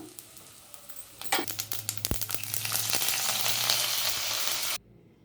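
A pan of mustard-seed tempering for tamarind rice crackles and pops, with bursts of spitting that build into a dense, continuous sizzle before cutting off abruptly to near silence.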